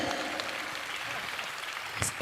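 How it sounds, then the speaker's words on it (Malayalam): An audience claps in a steady, dense patter like rain, sustained at moderate volume, with a brief brighter spike near the end. "നല്ല കൈയടി കൊടുക്കുക"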